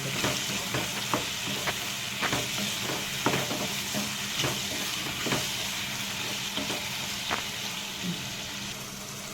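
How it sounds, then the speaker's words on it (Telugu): Tomatoes frying with ridge gourd in a hot pan, a steady close sizzle broken by repeated scraping stirs of a spoon against the pan, with no talking. "ఇప్పుడు దీంట్లో టమాటాలు ఒక 3 టమాటాలు ఇవి కూడా వేసి టమాటాలు మెత్తబడేదాకా మొత్తం."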